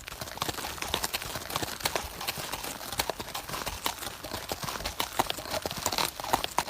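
Horses' hooves clip-clopping as riders travel on horseback, a steady, fairly close rhythm of many overlapping hoofbeats with no talk over them.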